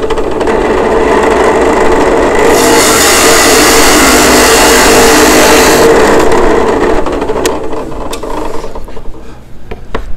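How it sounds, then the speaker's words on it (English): A loud drill press bores into wood with a grinding, rasping whine that swells midway, then winds down into lighter scraping and clicks. "But let's go ahead and drill a hole."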